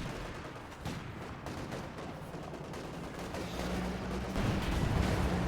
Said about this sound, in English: Rocket fire, mortar fire.